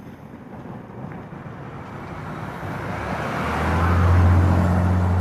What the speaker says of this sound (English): Vehicle coming.